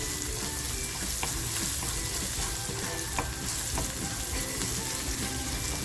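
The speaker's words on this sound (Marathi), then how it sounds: "पेचून घेतलेली लसूण आहे ती टाकते आणि ही आपल्याला लाल होईपर्यंत खमंग परतवून घ्यायची आहे" Peeled garlic frying in oil until red, a dense, loud sizzle running continuously, punctuated by scattered clicks and scrapes of stirring in the pan.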